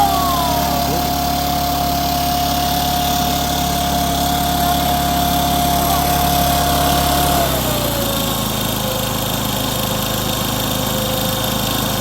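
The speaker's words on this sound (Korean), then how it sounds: "이제 시동 겁니다." A Mast MB900 gasoline engine leaf blower runs at a steady, loud, high-pitched whine close by, the engine note dropping to a lower pitch partway through as it settles.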